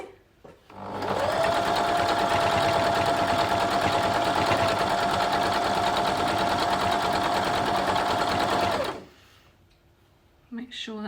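A sewing machine runs steadily for about eight seconds while stitching a log cabin quilt block, a loud continuous whirring hum that starts and stops cleanly, followed by a quiet pause with brief movement noises.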